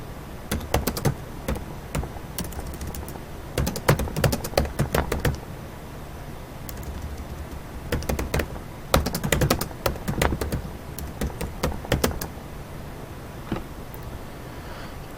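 Quick bursts of typing on a computer keyboard, close and crisp, with clattering runs of keystrokes separated by short pauses and no voices.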